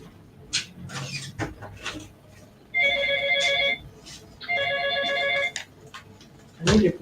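A telephone rings in two long electronic trilling bursts, loud and close, separated by quiet moments with scattered small knocks and rustles around them.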